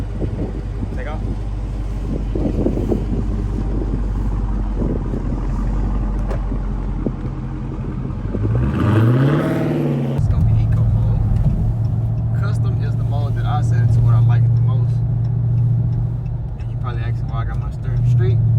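A newly bought car takes off after a short engine rumble, its loud engine rising in pitch in a sweep mid-clip and then settling into a steady drone, with someone talking over much of it.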